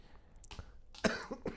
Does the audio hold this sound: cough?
yes